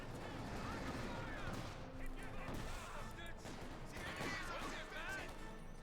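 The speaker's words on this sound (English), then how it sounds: "Shot fired." Gunfire crackles across a Company of Heroes 2 battle with Panther and Firefly tanks, rapid overlapping shots and bursts over a constant din of battle, fairly faint and continuous with no pauses.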